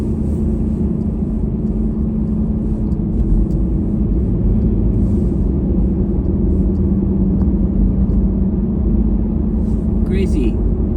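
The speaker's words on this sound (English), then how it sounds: "we're driving out here in the middle of nowhere" A car rolls along a remote Alaska highway, with a loud, steady engine drone and road rumble from inside the cabin throughout, occasional faint higher rattles, and a short squeaky sound near the end.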